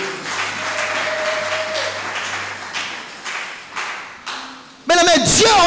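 A church congregation claps and applauds steadily for several seconds, the sound fading in waves, while a preacher's voice and a sustained tone run beneath it and music bursts in at the end.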